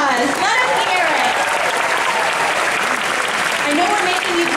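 A large crowd applauds at an anniversary show at Disney's Hollywood Studios, with dense continuous clapping and cheering voices throughout. Speech is mixed in with the applause.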